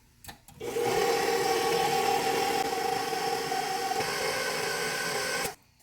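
An electric mixer whirs steadily at medium speed through banana bread batter, switching on after a brief clatter, holding a droning motor hum for about five seconds, then cutting off, with no voices.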